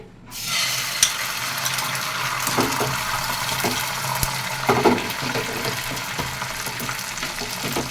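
An egg cracked into about two spoonfuls of white oil fries in a pan for a chicken roll, giving a steady broadband sizzle with occasional louder pops and crackles, close and continuous throughout.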